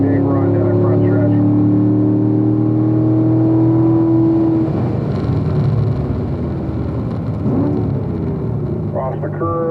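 A Corvette race car accelerating down a track's front stretch, its engine note climbing in steady harmonic whine, loud and close, later blending into rougher roar while a voice talks over it.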